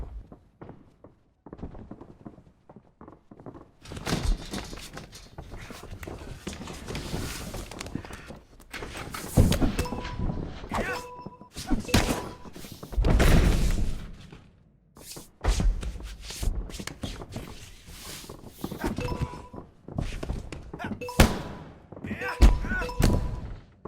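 Ground-and-pound body punches in a UFC video game, repeated dull thuds and thumps landing in irregular bursts over a busy game mix.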